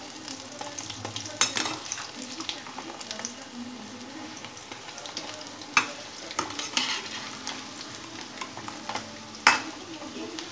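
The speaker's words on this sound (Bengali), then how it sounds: "আওয়াজগুলো শুনতে পাচ্ছেন এক সাইড ফ্রাই হওয়ার পরেই কিন্তু কি সুন্দর আওয়াজ হচ্ছে" Snacks deep frying in oil give a steady bubbling sizzle, with occasional sharp clinks of a utensil against the pan, close by and without speech.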